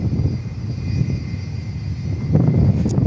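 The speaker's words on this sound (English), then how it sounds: "We're finally moving the Qantas." Qantas airliner taxiing at Dallas Fort Worth airport, a low, moderate engine rumble with a faint steady whine that swells slightly toward the end.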